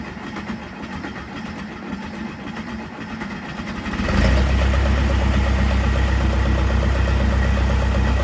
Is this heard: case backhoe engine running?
yes